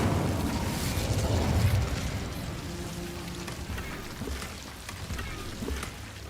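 Incendio fire spell in Hogwarts Legacy: a roaring, crackling burst of flame that swells loud in the first two seconds, then settles into a steady hissing, popping burn under faint ambient noise.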